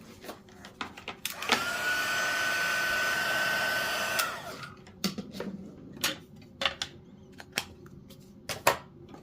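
A heat tool melting white embossing powder on cardstock gives a steady, close blowing whir for about three seconds, then cuts off, followed by scattered light taps and clicks.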